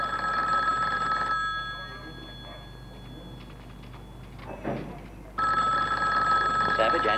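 An old-fashioned telephone bell ringing in a 1970s police homicide office, a loud sustained ring that stops, leaving quiet room sound, then starts again.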